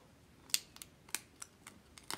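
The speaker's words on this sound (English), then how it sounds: "So usually don't use your nice scissors for this, but you know, it's a video." Scissors snip strips of paper for card making, a series of short crisp cuts at irregular intervals, close and fairly quiet over a faint room hum.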